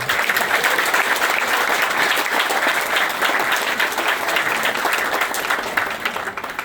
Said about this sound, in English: Big round of applause for all those people.